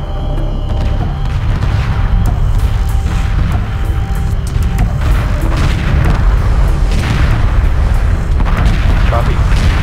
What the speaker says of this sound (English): Torpedo inbound. Prepare for impact.